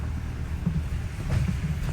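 Steady outdoor wind rumble buffeting the microphone, a low continuous roar with slight gusts, no voices.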